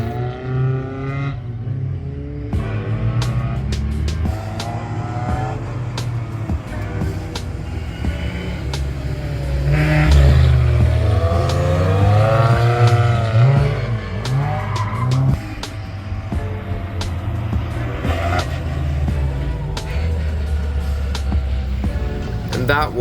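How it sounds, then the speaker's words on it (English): Rally car on a rally school track in Ireland, engine droning loud and steady with revs rising and falling through gear changes and tyre skids, heard from inside the car and swelling louder midway through. "for this session I'm not putting any music, just so you can hear the car properly"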